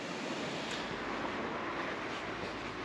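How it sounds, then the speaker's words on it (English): A stream and small waterfall rush steadily below a cobbled street on a winter motorcycle ride, a constant broadband wash of flowing water heard from some distance, with no talk over it. "So we've got a nice stream down there."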